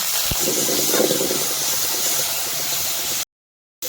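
Grated onion dropped into hot oil in a pan with cumin seeds and cinnamon, a steady loud hiss and sizzle with a brief clatter at the start, continuing before cutting off abruptly near the end.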